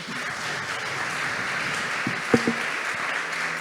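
Steady wash of audience applause at an awards ceremony opening, continuous and fairly even throughout, with a couple of brief louder knocks near the middle and a faint tonal hum underneath.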